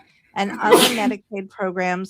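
A single sneeze bursts out in the middle of a talk about California Medicaid programs, sharp and close, while a speaker carries on talking around it.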